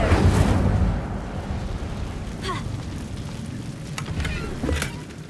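Incendio fire spell cast in Hogwarts Legacy, a loud roaring whoosh of flame bursting at the start and crackling on, with a few sharper flares and impacts through the rest.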